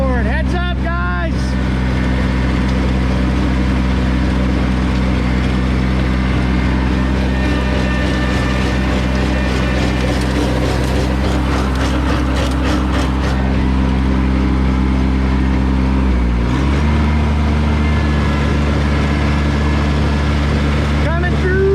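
A new Kubota tractor runs loud and close with its PTO engaged driving a tiller, a steady heavy engine drone that dips briefly near the end, with people talking over it.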